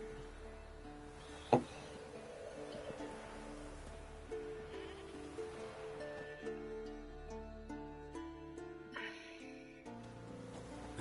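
A goat tied to a stake as forktail bait in The Witcher game bleats in short wavering cries over soft pattering rain, with a sharp knock early on and repeated bleats through the middle and end.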